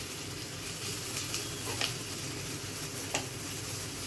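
Masala frying in a pan with onions and being stirred, a steady close sizzle with occasional scraping clicks of the spoon.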